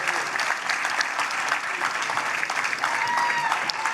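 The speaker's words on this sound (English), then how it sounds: "a big round of applause for all our student finalists" Audience applause at a student philanthropy competition finals celebration, a dense, sustained wash of clapping from a large crowd that holds steady for several seconds.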